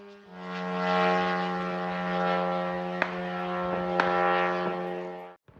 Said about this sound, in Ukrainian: Это дрон камикадзе